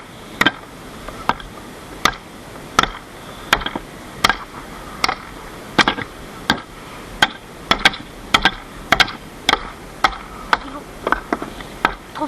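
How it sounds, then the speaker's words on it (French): Hammer blows strike a wooden post during treehouse construction, a steady series of about twenty sharp, loud knocks roughly every half second, each ringing briefly over faint outdoor background. "Donne des coups par en bas, puis moi je vais mettre un marteau dessus."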